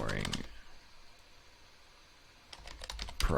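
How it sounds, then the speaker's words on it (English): Quick clicking keystrokes on a computer keyboard come in two short bursts, one at the start and one near the end, with a quiet pause between them. "I'm really bad at typing"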